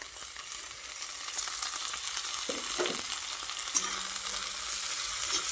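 Fresh coriander leaves stirred into garlic, onion and chilli already frying to brown, a steady broadband sizzle with soft scraping stir strokes partway through, close and continuous with no voices.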